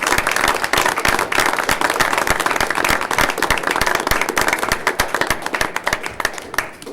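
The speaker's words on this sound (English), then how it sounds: "I'd finally like to finish by offering an applause for the job well done" Dense clapping from a room of attendees at a county board of commissioners meeting, sustained and even for several seconds and tapering slightly toward the end.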